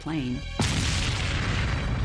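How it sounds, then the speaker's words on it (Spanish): A deep boom bursts out on an aircraft during the Tenerife airport disaster, loud and close, then a heavy roaring rumble follows without pause. A brief tonal sweep comes just before it. "Se produce otra explosión"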